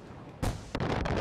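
Gunfire in the Far Cry video game, a sudden loud blast followed moments later by a second sharp report, each trailing into rolling echo and rumble.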